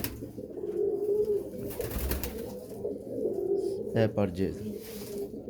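Several pigeons, fancy Teddy and French breeds, coo softly in a low, repeated throaty rhythm, with someone talking over them in the foreground.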